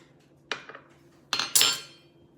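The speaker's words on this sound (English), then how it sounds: "And just give that a stir." Spoon clinking against a bowl while espresso is stirred into melted semi-sweet chocolate, with three distinct metallic taps and scrapes, the last two louder and ringing, and no talking.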